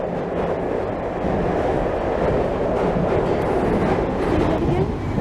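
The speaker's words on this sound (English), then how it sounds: "See a Metropolitan line train passing?" London Underground Metropolitan line train passing near Kilburn, a loud continuous rumbling roar of wheels and carriages that swells slightly toward the end, with faint voices in the background.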